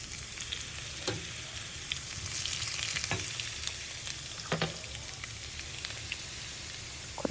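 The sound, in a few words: frying chopped garlic with spices for gongura chutney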